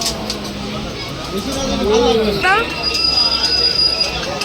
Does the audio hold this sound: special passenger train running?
yes